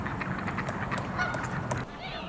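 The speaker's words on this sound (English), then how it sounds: "look at these beautiful ducks over here" Ducks and geese call out in a park, a run of honking and quacking cries scattered over steady outdoor background noise, moderately close and fairly loud, with no talking.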